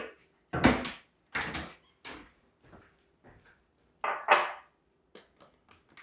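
A spoon and bowl are handled in a kitchen while preparing tropical ice cream, giving several sharp clinks and knocks in irregular bursts, fairly close and clear, with quiet pauses between them.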